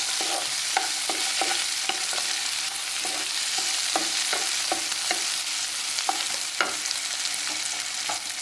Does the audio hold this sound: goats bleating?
no